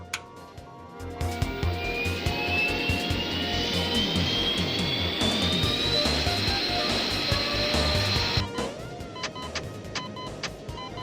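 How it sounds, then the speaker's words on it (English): Aircraft engines power up with a mechanical whine rising steadily in pitch for several seconds, then cutting off abruptly, leaving scattered clicks and knocks. "All systems online, powering up engines."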